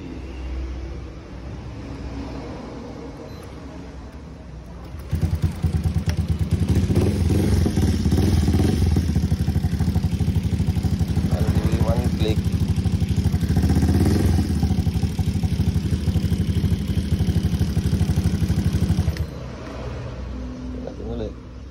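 A Honda Beat FI V2 scooter upgraded to a 130cc engine starts and runs at a loud, steady, close-up idle for about fourteen seconds with slight revving, then cuts off, while someone talks in the background before and after.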